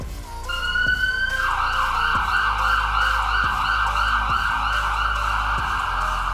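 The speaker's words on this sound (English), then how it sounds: "Call the ambulance. Hurry up." A toy ambulance siren wails steadily and loudly for the whole stretch, its electronic tone looping continuously with faint periodic clicks underneath.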